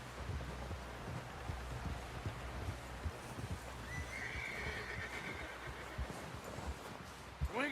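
A horse in the Red Dead Redemption 2 video game gives a long, loud neigh, with clip-clopping hooves and ambient outdoor noise beneath it and faint game voices in the background.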